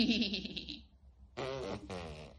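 A voice imitates a horse's neigh in a wavering, breathy whinny, followed by two more short bursts of the same imitation, close and fairly loud.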